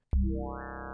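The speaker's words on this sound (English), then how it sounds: "we're using my Void Serum bank to get this Starboy Rob bass preset" A single synth bass note from a Serum preset hits suddenly and sustains, deep and buzzy, with its tone gradually brightening as it holds.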